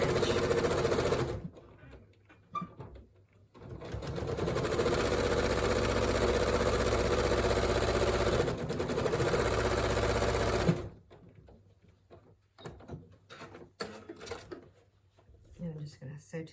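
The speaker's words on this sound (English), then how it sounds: "And with my 1/4 inch foot on, I am going to sew that on there" A sewing machine fitted with a 1/4 inch foot stitches fabric in a steady, loud mechanical run of several seconds, then stops; a person talks softly before and after the sewing.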